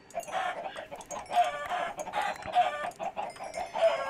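Chickens in a modded Minecraft world cluck repeatedly in bursts, several birds close by and fairly loud, with no talking over them.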